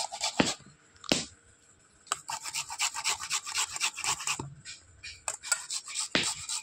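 Green mango from a home-grown tree being grated by hand, heard as close, rhythmic rasping strokes in short bursts separated by brief pauses, with no talking.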